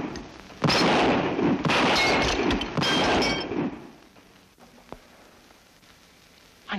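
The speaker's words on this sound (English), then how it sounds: "I never saw shooting like that before." Several sharp shots from a rider firing at targets ring out in quick succession, loud and close with a clanging, metallic edge, then fade to near quiet with one last faint crack.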